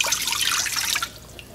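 Water poured into an 8-quart Instant Pot over a trivet, a close bright splashing stream for about a second before it stops, leaving quiet with a faint drip.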